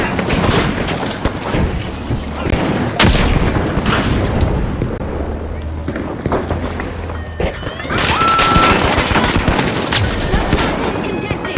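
In the game The Finals, a flashbang grenade bangs amid rapid bursts of gunfire and booms in a loud, chaotic firefight, with voices speaking over the action.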